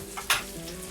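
Butter sizzles in a hot pan as it is spooned over corn on the cob, a brief crackling frying hiss with one sharper burst partway through, close and alone.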